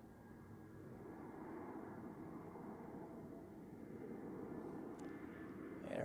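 An EasyJet Airbus A319 airliner at Zurich Airport gives a distant, steady low jet rumble that swells slightly as it approaches, with faint outdoor background noise and no talk.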